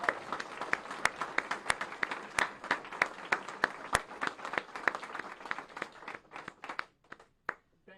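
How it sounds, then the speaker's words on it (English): An audience at a hospital purchase announcement gives a round of applause: sharp, distinct claps from a modest crowd, fairly quiet and loosely rhythmic, gradually thinning and trailing off into a few scattered final claps. "I think we all owe these people another round of applause"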